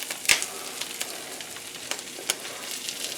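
An omelette sizzles and crackles in a cast iron pan, a steady soft frying hiss with a few sharper pops and spatters, heard close with no talking.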